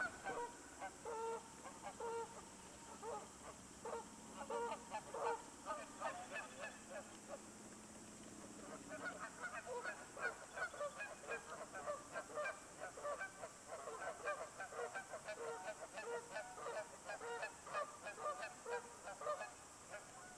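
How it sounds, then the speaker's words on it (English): A flock of geese honking steadily in spring at Elk Island National Park, overlapping calls rising and falling throughout, moderately distant with faint background hiss. "I enjoyed watching the geese chase each other"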